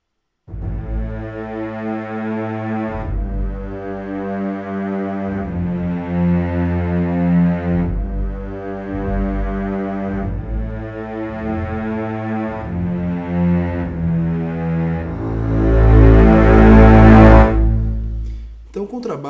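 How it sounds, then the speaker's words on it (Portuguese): An orchestral double bass and cello play a slow, low accompaniment line together, sustained bowed notes in steady phrases that swell louder near the end. "Vamos ouvir o contrabaixo e o violoncelo agora."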